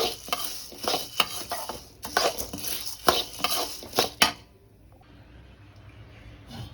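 A utensil stirs toor dal roasting in a little oil in a pan, with scraping strokes and a soft sizzle for about four seconds, then the stirring stops and only a faint sizzle remains.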